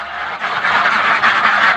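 Ducks quack in a steady, busy chorus close by during an egg harvest, continuous and fairly loud throughout with no talking over it.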